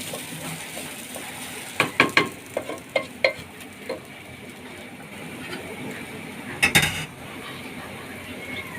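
Pilaf stirred in a pot over a hot stove: a run of sharp scraping and clinking strokes against the pot over a steady sizzle, a louder clatter near the end, faint background noise.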